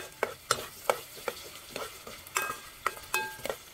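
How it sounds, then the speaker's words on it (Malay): Onions and red chillies fry in a pan while a utensil stirs them in a steady run of scraping strokes over a soft sizzle, close and moderately quiet, with no talk. "so sekarang kita kacau"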